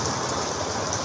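Heavy rain pours down during a thunderstorm as a loud, unbroken roar of dense hiss, steady and close throughout.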